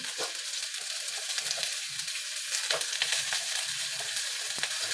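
Garlic and ginger fry in a pan with a steady, close sizzle and crackle, with a few soft clicks of stirring and no talking.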